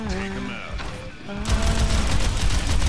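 An enemy turret fires in the Overwatch 2 game. After a short tonal opening, dense rapid bursts of gunfire break out and continue loudly to the end.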